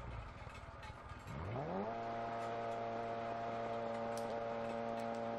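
Rally car in Dirt Rally 2.0 with a failing gearbox, its engine note climbing sharply and then holding a steady, strained drone with a whining mechanical edge, loud and without talk.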